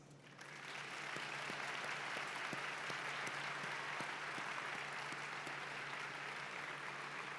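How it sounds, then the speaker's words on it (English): An audience at a 2016 Des Moines University commencement applauds the faculty seated in the front rows. The clapping swells within the first second and holds as a dense, steady roar of many hands, fairly distant, with no talk over it. "I ask you to demonstrate your appreciation by applauding the faculty"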